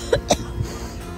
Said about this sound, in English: I'm having a coughing fit, excuse me.